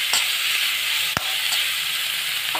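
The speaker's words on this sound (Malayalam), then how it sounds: "അതിലേക്ക് ഈ ഉള്ളി ഇട്ട് വെക്കണം. ഇനി ഇതൊന്ന് നല്ലപോലെ ഒന്ന് വഴറ്റി വെക്കണം" Onions sautéing in a frying pan for a churanga (bottle gourd) masala curry, giving a steady broadband sizzle throughout with a brief sharper clatter near the middle, close and alone without talk.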